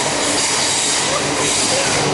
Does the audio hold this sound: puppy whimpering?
no